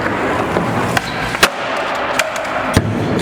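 Cheap Walmart skateboard doing ollie tricks: a steady rolling rumble broken by several sharp wooden clacks and slaps of the board landing, close and loud, with no talking.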